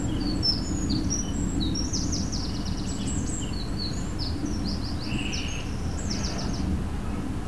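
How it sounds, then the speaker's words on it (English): Small birds chirp and tweet in scattered high bursts over a steady outdoor rumble of wind or distant noise around a garden feeder where pigeons and doves gather, no talking. "It's not often that so many pigeons and doves line up for the food."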